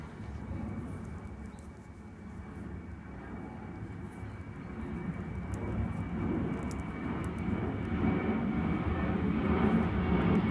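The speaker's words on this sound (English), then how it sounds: "Sorry about the plane." A propeller airplane passes overhead outside a quiet room where a beanie is being knitted, its low engine drone gradually swelling louder and steadier, with no talking.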